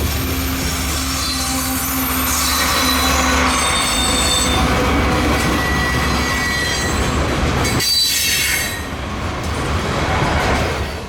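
A Norfolk Southern manifest freight train rolls past close by in heavy snow, wheels squealing loudly and continuously over a steady rumble of railcars and clicking rail joints.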